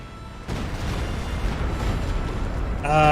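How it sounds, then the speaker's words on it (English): An artillery barrage in the video game Company of Heroes 2 rumbles as a dense, continuous wash of booming explosions, heavy and sustained across the moment and swelling near the end. "maybe this is gonna be a good barrage"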